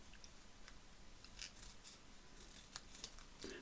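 Scissors snipping paper scraps for a craft project, a series of faint quick cutting clicks at close range in a quiet room, no talk.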